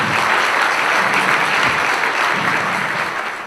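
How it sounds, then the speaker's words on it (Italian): Guests at a hotel association gala dinner give a thick, even round of applause, loud and continuous throughout. "Sarebbe corretto fare un applauso"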